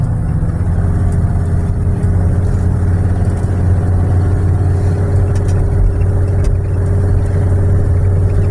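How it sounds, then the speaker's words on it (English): A car drives along a narrow road beside Muir Woods near Muir Beach, off Highway 1 outside San Francisco, with a steady low engine and road rumble heard from inside the car, continuous and even, with no talking. "I gotta drive on this narrow road."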